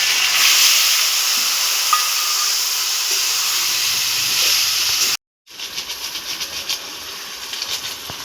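A spice paste of ginger, garlic and cumin sizzles loudly in a pan with a steady, bright hiss. It cuts out briefly, then returns with rhythmic scraping from stirring.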